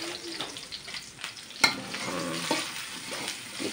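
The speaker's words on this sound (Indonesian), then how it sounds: "Kita tumis sampai harum dan terinya mateng." Anchovies stir-fried in a pan with shallots, garlic and chili for a mustard-greens dish, a close, continuous sizzle broken by scraping stirs and one sharp clack of the utensil.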